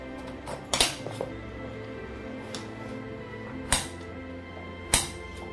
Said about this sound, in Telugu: ఇలా మొత్తం పీల్ ఆఫ్ చేసిన తర్వాత నేను చిన్న చిన్న ముక్కలుగా అయితే కట్ చేసుకుంటున్నాను